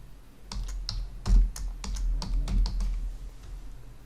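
Fingers typing a password on a computer keyboard, a close, quiet series of about a dozen sharp key clicks in an irregular rhythm, with one heavier thump partway through.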